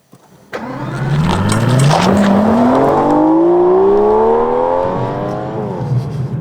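A 2021 Aston Martin DBS Superleggera starting up: a sharp crank catches into a loud, close roar that climbs in a long rising rev, then eases back to a deep idle.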